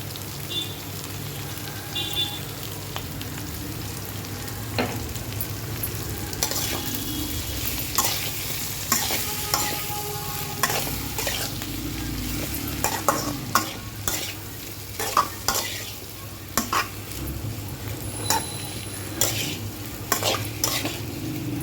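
Boiled potato pieces with salt and turmeric fry in a pan while a spoon stirs them, giving a low steady sizzle broken by sharp, repeated scraping clicks that grow more frequent toward the end.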